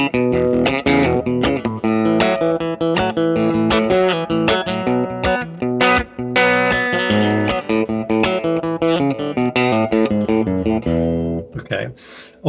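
An electric guitar plays the opening section of a song as a bright, busy run of quick picked notes with a steady driving rhythm, loud and alone, stopping near the end.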